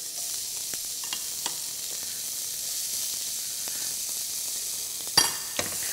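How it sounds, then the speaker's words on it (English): Red onions and cumin sizzle in a pan, a continuous bright hiss close by, broken by a few faint ticks and one louder clatter near the end, with no talking. "I'm going to add some red onions, 2 tablespoons, and caramelize them."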